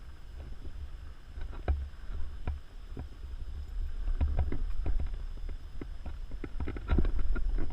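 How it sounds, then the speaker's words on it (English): A Norwegian Fjord horse walks on a trail, its hooves clip-clopping in irregular thuds close by, with a rustling, breezy outdoor background. "Just showing the video how you can't control the horse."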